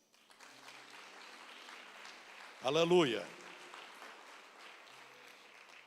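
A church congregation applauding during a Protestant service, a soft spread of clapping under a single voice that calls out loudly for a moment in the middle.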